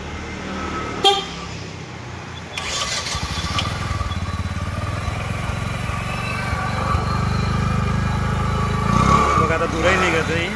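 A Bajaj Discover 125 motorcycle, just repaired with a new block, piston and clutch plates, is button-started and idles with a steady close putter, rising slightly in revving, while someone talks over it.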